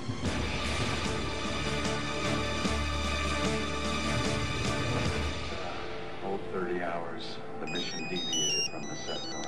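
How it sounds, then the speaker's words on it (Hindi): A phone ringtone chimes in a repeating melodic pattern near the end, following a stretch of dramatic music and voices. "किसका फोन आ रहा है?"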